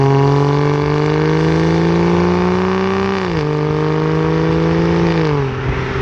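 An Aston Martin DB9 Volante engine and exhaust hold a steady, loud, close drone, then dip in pitch twice as the revs ease off, with no voices over it.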